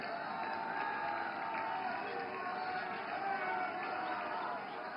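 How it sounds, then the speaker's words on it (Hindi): Applause and cheering from a standing crowd greeting the Prime Minister at a BJP party headquarters gathering in Delhi, a dense, steady wash of clapping and voices held at an even level throughout. "जोरदार तालियों से खड़े होकर स्वागत कीजिए माननीय प्रधानमंत्री जी का"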